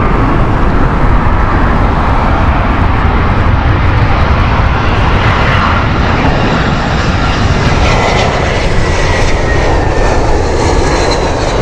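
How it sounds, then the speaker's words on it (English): A British Airways Airbus A380 rumbles past at Heathrow on a windy day, its engines giving a loud, sustained roar with a rising whine and shifting tone toward the end, no voices over it. "This is a British Airways Airbus A380,"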